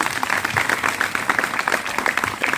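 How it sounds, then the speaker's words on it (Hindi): Sustained audience applause at an award ceremony honoring a school teacher, a dense, steady wash of many hands clapping at moderate volume with no pauses. "आप इनके लिए जोरदार ताली बजाएं।"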